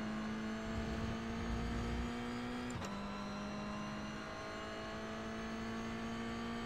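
Toyota GR 86 engine in a racing video game at the Red Bull Ring, a steady high drone that drops abruptly with a sharp downshift click near three seconds, then settles at a lower pitch, close and loud.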